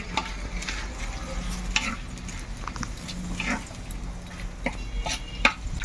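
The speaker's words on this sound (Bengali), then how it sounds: "এবার আমি ভালো করে লাল করে পেঁয়াজটা ভেজে নেব" Onions frying in oil until browned for a Bengali cauliflower roast, a soft continuous sizzle with intermittent stirring scrapes and a few light clinks, fairly quiet and close.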